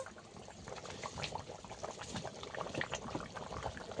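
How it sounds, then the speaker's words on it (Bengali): A pot of fish curry with Malabar spinach and fried fish bubbles steadily at a boil, a dense, close crackle of popping bubbles and simmering liquid with no voices. "আরও কিছুক্ষণ মাছ দিয়ে একটু ফুটিয়ে নেব।"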